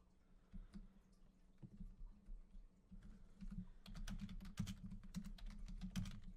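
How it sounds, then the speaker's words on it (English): Fast, uneven keyboard typing close to the microphone, light and scattered at first, then growing into busier, denser bursts of clacking keys with no voice over it. "Sorry about the typing noise."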